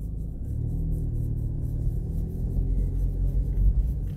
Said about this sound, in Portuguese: Deixa esse carro passar aí.